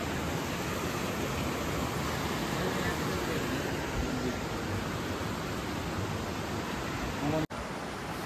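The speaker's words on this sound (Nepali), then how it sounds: "खोलाको छेउमा रहेछ खोलाको माथि" A stream flows beside a hilltop viewpoint near the Nepal border, a dense, constant rushing of water with an even steady roar, briefly cut just before the end.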